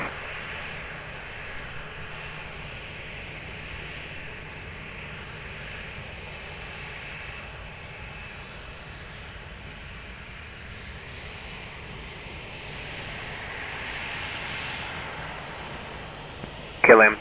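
An airliner on approach to Lisbon Airport gives a steady, distant broadband engine roar, even and unbroken throughout, with a brief sharp noise at the very end.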